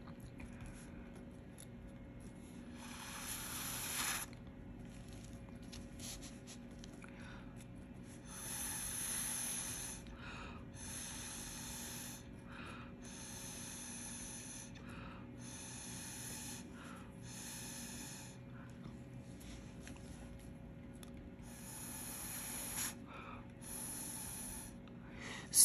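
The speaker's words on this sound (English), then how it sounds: "I'm going to blow with my mouth." Breath blown by mouth through a standard-size drinking straw to spread resin across flower petals: a series of soft, breathy hissing puffs, close up and fairly quiet, each lasting a second or two with short pauses between.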